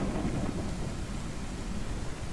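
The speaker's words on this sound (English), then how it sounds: "the rain in this game needs to be a little reworked and stuff" Steady rain and low thunder rumble in Tree Of Life Oddria, a dense continuous wash of noise with a heavy low-end roll throughout.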